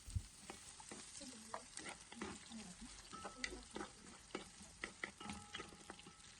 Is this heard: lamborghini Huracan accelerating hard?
no